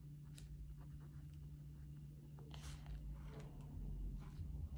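Purple Paper Mate InkJoy gel pen writing on thin Bible paper, a soft continuous scratching with brief strokes, close and quiet over a steady low hum.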